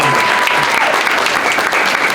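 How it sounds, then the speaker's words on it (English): An audience at a Hispanic heritage event in New York breaks into steady, dense applause, loud and continuous for the whole moment. "round of applause for Dr. Hernandez."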